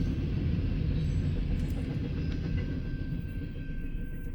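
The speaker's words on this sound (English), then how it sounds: "There's another train coming." A train rumbles past at close range, a steady loud low roar with faint rail clatter that holds for the whole stretch and eases slightly toward the end.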